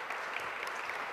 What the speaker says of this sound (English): So we applaud you for all your hard work.